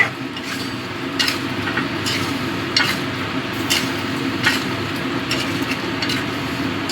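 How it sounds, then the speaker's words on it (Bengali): Mustard spice paste stirred and fried with potatoes and taro in a pan over a gas flame: a steady sizzle with repeated scraping strokes of the spoon at a close, moderate level. "এবার এটা কষে নেব ভালো করে।"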